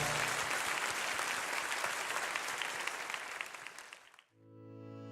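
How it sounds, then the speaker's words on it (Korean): A congregation at Sunday worship in Good Shepherd Church gives a big round of applause, a full, dense roar of clapping that thins out and stops just past four seconds. Soft sustained organ-like tones follow in the quiet. "다시 한번 크게 박수해 주시기 바랍니다."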